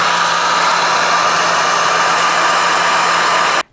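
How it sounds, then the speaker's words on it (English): A hair dryer blows steadily over a watercolour painting, a constant loud whooshing hum with an even tone that cuts off abruptly at the end. "I can probably lightly blow dry"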